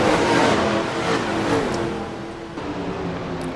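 Race cars roar around a track in a Showdown event, a steady loud engine drone with shifting pitch as several cars run together, no talk over it.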